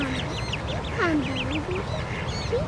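Water birds with orange babies call among a noisy outdoor background, with a mix of short, nasal quacking calls and higher chirps near and far, and some human voices underneath.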